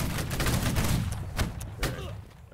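A crackling musket volley erupts in the video game Holdfast: Nations At War, a dense burst of overlapping shots with a couple of heavier thumps trailing off.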